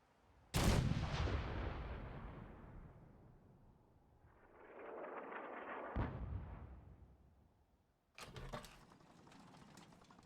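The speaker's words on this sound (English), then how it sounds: "I then construct the castle's artillery and test bomb a nearby restaurant." Artillery bombardment in the video game Fallout 4: a loud, sharp blast that trails off slowly, followed by a rumbling roar, a further thud and a second hard boom near the end, with no voices.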